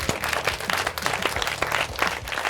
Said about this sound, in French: je pense qu'on peut applaudir nos candidats